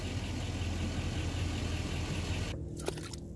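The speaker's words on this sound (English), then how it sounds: "It's a top fuel dragster engine" A loud, steady top fuel dragster engine of about 1,500 horsepower, a 581 Dart in a 1979 Hondo hydroplane, rumbles at idle for a few seconds, then cuts off abruptly, leaving a quiet space with a few faint clicks.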